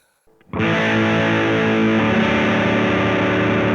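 An electric guitar with humbucker pickups kicks in after a brief pause and rings out as a loud, thick distorted chord sustained through a Supro tube amp.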